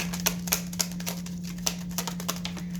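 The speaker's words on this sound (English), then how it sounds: "I kind of want to shuffle like one more time." Rapid, crisp tarot card shuffling, a string of light papery clicks and riffles in an uneven rhythm, close up over a faint steady hum.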